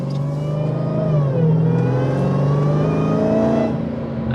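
A car pulls hard in eco mode, its engine note climbing steadily in a loud, close interior roar with a brief shift partway through, no talk over it.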